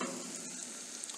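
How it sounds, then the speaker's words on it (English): Onions sauté in a pan for an onion tomato gravy, sizzling with a steady, close crackle throughout a short stretch, with no speech. "Now as you can see, the onions are sauteed well."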